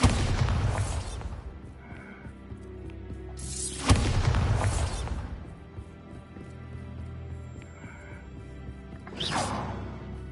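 Bombarda blasting spell cast in Hogwarts Legacy, a heavy booming explosion that hits near the start, swells again around four seconds, and is followed by a third burst with lingering rumble.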